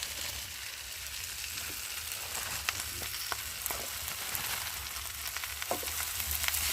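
Chopped malabar spinach is stir-fried in hot spiced oil, giving a steady loud sizzling hiss with scattered crackles and occasional soft stirring clicks throughout.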